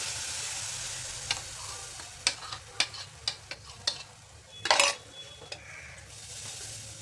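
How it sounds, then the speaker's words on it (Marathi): A spoon stirs a besan flour slurry in a cooking pan, scraping with a string of regular clinks and one louder knock near the end over a steady soft sizzle. "आणि आता ह्याला सारखं हलवायचं गाठी होऊ नाही द्यायची"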